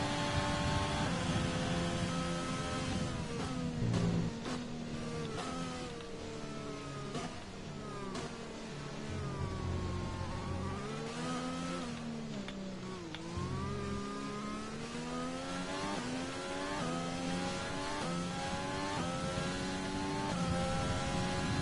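Race cars lap a track in the F1 2020 video game at the Chinese Grand Prix, with a continuous high engine whine rising and falling through gear changes and braking, plus occasional other cars nearby, without talk.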